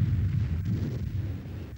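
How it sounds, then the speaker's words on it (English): A WWII V-1 flying bomb explodes on impact with the ground: a deep, rumbling low boom that rolls on continuously, heavy and sustained without any sharp attack, with no voices. "It fell to earth only when its fuel ran out, this being signalled by its sudden silence before it impacted with the ground in a great explosion."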